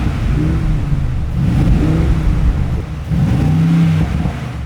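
A Mercedes-AMG G63 in sport mode revs hard in repeated surges, its sport exhaust giving a deep throaty note rising and falling close by, with no talking.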